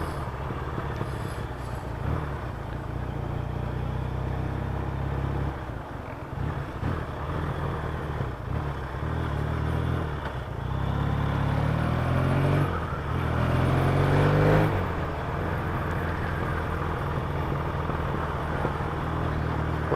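A Yamaha XS650 motorcycle is ridden back, its engine rumbling steadily and fairly loud throughout, swelling with a few throttle rises and passing wind noise.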